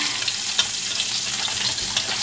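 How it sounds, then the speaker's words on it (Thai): Mackerel frying in hot oil for a Thai chili dip, giving a steady close sizzle with a few small sharp spatters scattered through the short stretch, no voices. "ระวังกระเด็นนะคะน้ำมัน"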